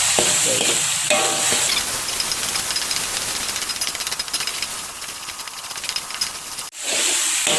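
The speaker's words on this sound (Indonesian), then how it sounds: "Nah ini kita tumis hingga bahan bumbu ini mengeluarkan aroma wangi." Whole spices including cardamom, star anise and cloves stir-fried in hot oil for jackfruit rendang, giving a loud continuous sizzle and hiss with scraping stirring, a brief dip near the end, then sizzling again.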